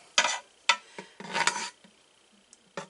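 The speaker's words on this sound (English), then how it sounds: "I'm going to stir this up" Margarine melting in the metal pot of a Power Pressure Cooker XL, stirred with a utensil: a few close scraping and clinking strokes against the pot, separated by short pauses, with no speech.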